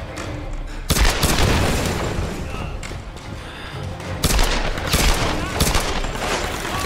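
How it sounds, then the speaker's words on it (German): Enemy gunfire in the Tomb Raider video game: loud, dense bursts of rapid shots and booming impacts that run almost continuously, with brief lulls between volleys. "Diesmal schießen sie von oben."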